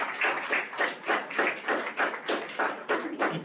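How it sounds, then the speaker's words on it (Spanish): Applause for a speaker at an academic presentation on Chinese immigrants in Mexico: a small audience claps in uneven bursts, each hand strike distinct and fairly close, with no talking over it. "un aplauso por favor para nuestro doctor"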